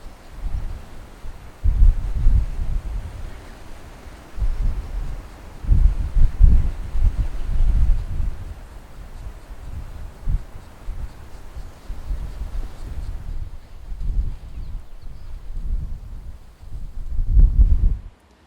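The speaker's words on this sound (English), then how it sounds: "it's turned into a very, very windy morning this morning" Strong wind buffets the microphone in repeated low rumbling gusts, rising and falling for the whole stretch with no voices.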